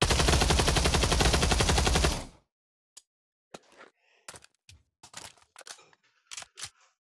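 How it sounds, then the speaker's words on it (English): A FAMAS rifle in the Pavlov VR shooting game, a loud, dense burst of rapid automatic fire for about two seconds, followed by a string of short, sharp mechanical clicks and clacks of handling or reloading. "The next one will be the FAMAS."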